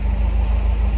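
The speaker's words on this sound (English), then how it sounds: "it's been idling for about an hour" A Volkswagen Vanagon Syncro Doka (Tristar) engine idles steadily, a close, loud low rumble with an even pulsing throb and no voices.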